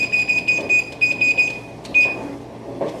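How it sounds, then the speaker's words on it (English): A kitchen timer is set, giving a series of short high electronic beeps in quick bursts, close and clear, with faint clatter behind them. "All right, I'll set the timer."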